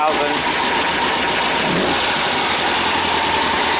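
A rebuilt 1800 VW engine idles at about 1000 rpm, a loud, close, steady drone that holds even throughout.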